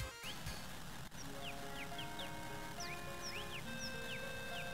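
Bright, short chirping bird calls in Final Fantasy VII's North Corel area, scattered quick tweets repeating over a quiet, steady ambient background, faint and somewhat distant.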